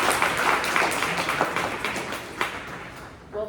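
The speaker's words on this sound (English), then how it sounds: "So can we get a round of applause for Dr. Wells?" Audience applause for a dean at a professor's talk, a moderate crowd clapping in a dense wash that fades near the end as a voice begins to speak.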